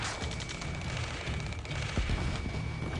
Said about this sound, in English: Taking fire! We're pinned down! Shoot back!